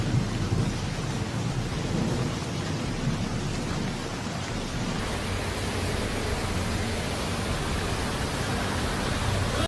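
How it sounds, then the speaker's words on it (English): Heavy rain roars steadily with gusting wind and low rumbling during a rainstorm in which a tree falls onto a road, a dense, continuous storm wash with no voices. "A tree collapses onto a road during heavy wind and rain,"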